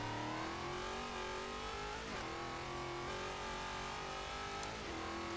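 A 1400-horsepower car in the racing game Forza Horizon 3 revs hard and continuously, its loud engine tone rising and falling through gear changes with no pauses.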